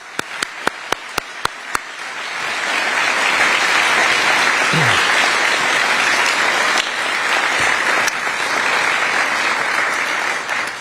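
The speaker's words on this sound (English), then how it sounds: "Will you please join me in one final round of applause for all of our recipients?" Audience at a Trinity University alumni awards ceremony breaks into a sustained round of applause after a few scattered early claps, a dense steady roar of clapping lasting about nine seconds.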